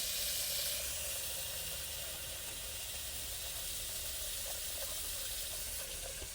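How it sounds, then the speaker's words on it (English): Hot water runs from a faucet in an Airstream Flying Cloud trailer, a steady, soft hiss of flowing water heard close and unchanging throughout, with no talking. "I am gonna go ahead and open the hot water valve and make sure that it works here."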